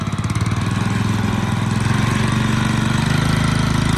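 Kubota TR60 walk-behind rotary tiller engine revving in second gear, a loud, close, steady mechanical drone with a rapid pulsing beat, running alone without talk.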